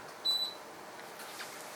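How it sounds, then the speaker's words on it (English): A Craftmade Fluid 54-inch ceiling fan in Cyber Yellow answers a button press with one short, clear electronic beep, faint against quiet room hiss. "every time I click the button and it responds, and it beeps"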